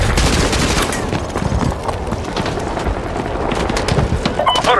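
Gunfire in Call of Duty: Modern Warfare 2, loud and dense, with rapid bursts and shots layered over a constant battle din for several seconds.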